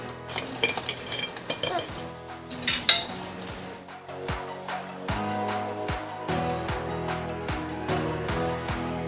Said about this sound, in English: Okay, time for the mixing.